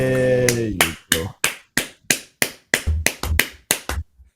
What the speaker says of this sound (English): The claps are clapping.